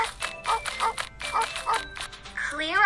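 A cartoon search dog at an earthquake rescue scene gives a run of short, rhythmic yips and barks, close and fairly loud, ending in a rising whimper-like tone.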